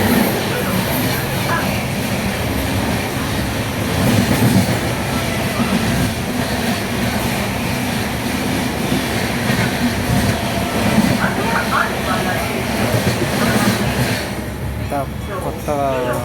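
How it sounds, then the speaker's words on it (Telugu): Amrit Bharat Express, the Bengaluru–Alipurduar weekly train no. 16597, rolls by in a steady, loud rumble of wheels and carriages with a rushing roar, and faint voices are heard beneath it. "కొత్త ట్రైన్ ఇది."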